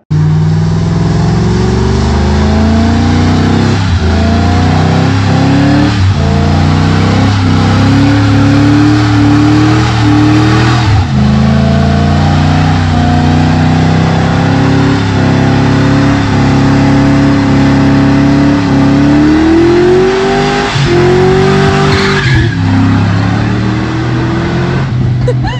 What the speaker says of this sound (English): so I'm gonna go ahead and do a burnout